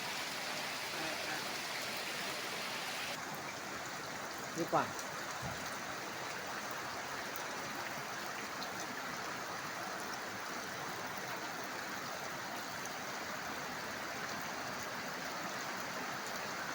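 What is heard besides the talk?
heavy rain and floodwater stream flowing through a field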